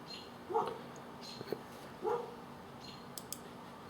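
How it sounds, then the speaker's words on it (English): Two short dog barks, about a second and a half apart, sound indoors at moderate distance against a quiet background, followed by a few faint clicks. "my dog won't shut up"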